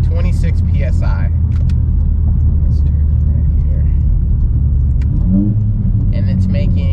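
An MK7 Volkswagen Golf Stage 3 accelerating hard on a high-boost map, heard from inside as a loud, steady engine rumble with road roar, while people talk over it.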